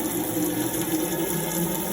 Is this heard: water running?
yes